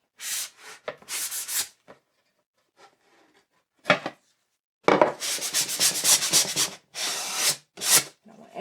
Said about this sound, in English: I'm going to make sure this is all sanded down